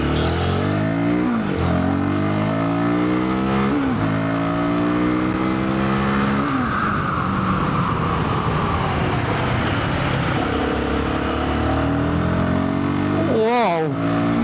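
A Royal Enfield Guerrilla 450 motorcycle accelerates hard through second and third gear, its loud engine note rising repeatedly and dropping back at each upshift across the whole stretch.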